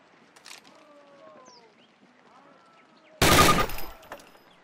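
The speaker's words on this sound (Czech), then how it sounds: "Dejte si ještě 3 rány na terč." A short burst of rifle fire at a target on a training range in Call of Duty 1, a few loud sharp shots close together near the end after quieter ambient sounds and brief voices.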